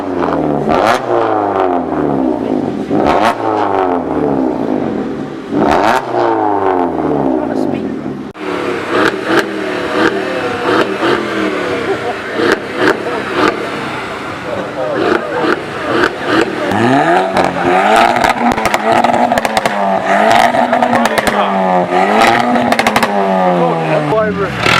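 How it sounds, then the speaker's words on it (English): Cars at a local car meet revving against each other, loud repeated engine revs rising and falling in bursts, with a Mini among them, close up, with shouting and talk mixed in. "Have a rev off, go!"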